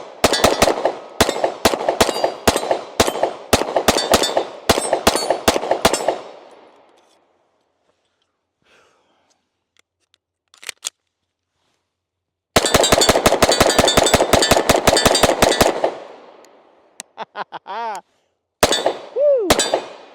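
Rapid strings of loud, sharp revolver shots from a Nighthawk Blackhawk crack out in two bursts with a quiet gap between them, each burst packing a dozen or so closely spaced blasts, followed by a few scattered later reports.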